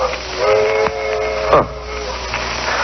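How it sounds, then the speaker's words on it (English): A train whistle sounds a few times in short blasts, somewhat distant, over a steady background hiss. "the sound of a distant train whistle punctuating the evening stillness"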